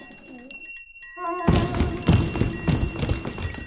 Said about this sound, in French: C'est beau voir un pigeon rentrer. Qui rentre à la maison en claquant des ailes et tout.